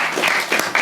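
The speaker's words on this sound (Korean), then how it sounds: "우리 좋으신 하나님께 영광을 박수 드리겠습니다." A church congregation claps together during a Sunday worship service, a brief burst of dense, close applause.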